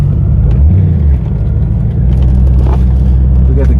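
C4 Corvette engine running loud and close, a heavy rumbling drone with a brief dip in the middle where the revs shift, steady and without talk.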